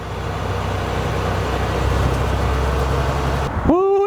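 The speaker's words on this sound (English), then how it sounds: "Driving a school bus, first time." An old, flood-damaged school bus drives with its engine running, a steady low rumble holding evenly for several seconds before cutting off sharply near the end.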